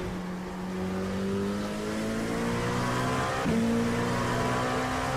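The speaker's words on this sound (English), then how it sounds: "Great engine noise on this though." A racing car engine in a video game revs up steadily through a gear, its harmonic whine climbing in pitch, with a brief shift or stutter partway through before it pulls on, loud and close.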